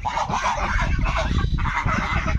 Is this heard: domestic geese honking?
yes